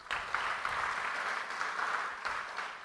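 A church congregation clapping in praise of God, a dense sustained round of applause from many hands in a reverberant hall, with faint voices underneath.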